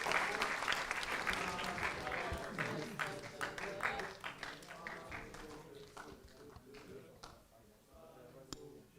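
Audience applause at a council meeting general assembly, loud crowded clapping at first that thins into scattered individual claps and fades toward the end, with a few isolated late claps.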